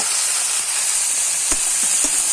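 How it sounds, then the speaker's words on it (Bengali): Banana flower and potato fry in a pan with a steady close sizzle and hiss, with a few soft stirring knocks and no talking. "এবার আমি মোচাটাকেও ভেজে নেব, আলুর সঙ্গে মোচাটাও ভেজে নেব।"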